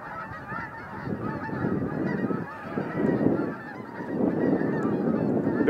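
Canada geese honk steadily at close range, a dense overlapping chorus that goes on throughout with no talking.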